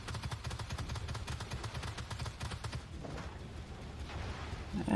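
Tank autocannon fire in Armored Warfare, a video game, as a rapid steady stream of fairly faint rhythmic shots that thins out midway, with a voice talking over part of it.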